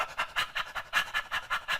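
A person panting rapidly, about ten short breathy exhalations in quick rhythmic succession, close and fairly quiet with nothing else heard.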